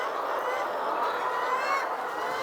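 Layer chickens in a poultry house in Uganda make a dense, continuous chorus of clucks and calls, the flock heard close and steady throughout.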